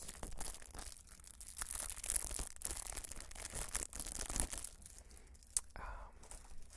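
Plastic crinkles and rustles right up against a sensitive ASMR microphone in close, irregular bursts of crackling, with a sharp tap near the end and some faint breathy whispering.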